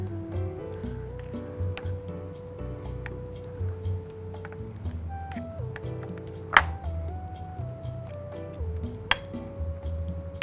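Pan drippings, butter and barbecue sauce stirred into smoked carrots, with steady scraping and clinks of a utensil against a pan, punctuated by a couple of sharper knocks, over light background music.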